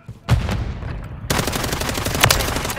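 Gunfire in Call of Duty MW3 on PS5 opens with a single sharp shot, then breaks into a loud, continuous automatic burst with dense, close, crackling reports.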